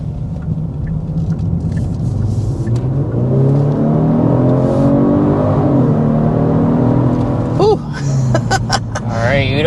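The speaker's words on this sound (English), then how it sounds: "we're going to go ahead and start with a hard acceleration" A 2025 Genesis G70 sports sedan under hard acceleration, its engine note climbing steadily through the gears in loud, close rising sweeps, with a brief lift near the end and some faint speech mixed in.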